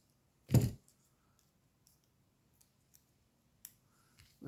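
One sharp, close snip of scissors cutting paper for crafting, followed by a few faint small clicks and taps in an otherwise quiet room.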